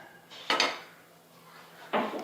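Two separate clanks of a metal cooking pot being set down on a stovetop, sharp and close, with a quiet pause between them, as a pan is readied for tempering moong dal paratha batter.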